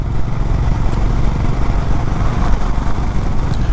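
Honda CB350 motorcycle engine pulling in fifth gear at around 60 to 65, a loud steady low thumping drone with constant wind rush, heard close and unbroken.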